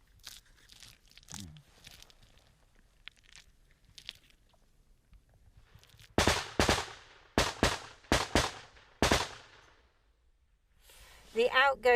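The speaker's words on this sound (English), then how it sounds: "The outgoing machine gun fire from the Ukrainians is aimed at suppressing the Russians so they don't fire back" Outgoing Ukrainian machine gun fire rattles in several sharp, loud bursts from close by. Quieter stretches of scattered clicks and faint movement come before it.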